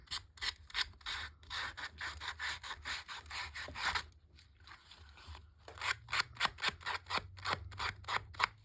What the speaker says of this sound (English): if you lightly sand your edges, it will allow you to take off what's remaining and give you a nice clean edge